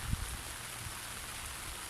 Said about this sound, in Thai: ฝนลงมาอีกแล้วครับ